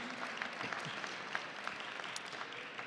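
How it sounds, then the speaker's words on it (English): Gala audience at a college alumni fundraiser applauds the medalists with a steady, dense round of clapping, moderately distant and even, without talk over it. "Let's give one more big, resounding round of applause for all the medalists."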